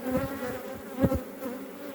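Honey bees at a beehive, a strong colony with propolis built up, give off a steady close buzzing hum with a brief louder swell about halfway through.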